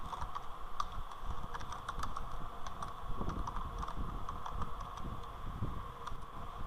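Quiet, steady typing on a computer keyboard while entering text in a Jupyter notebook, a fast patter of soft key clicks from near the microphone, with no voice.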